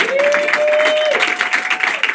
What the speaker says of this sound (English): please give a huge round of applause to the incomparable Ryan Keeley